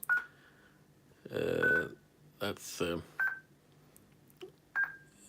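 Telephone dialing tones sent over a slow phone network connection, several short bursts of tones spaced out with pauses between them, alongside brief speech.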